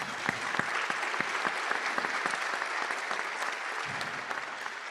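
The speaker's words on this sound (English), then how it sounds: "Let's give them a nice applause to start with." Audience applause for the stage staff at a State of the City event, a steady mass of clapping with a few sharper individual claps standing out, sustained at moderate loudness throughout.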